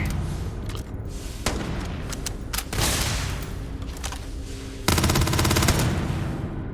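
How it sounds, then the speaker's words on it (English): Starfield video game gunfire crackles in dense automatic bursts, with sharp shots and heavier booms layered over a steady background of game sound, loud and continuous with no talking. "I'm like firing the gun and it's like sending me flying the opposite direction."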